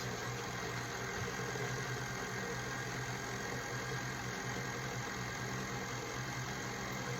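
A stand mixer turns slowly through flour for sourdough bread dough, giving a steady, even motor hum with a low mechanical rumble that runs without a break and with no voices over it.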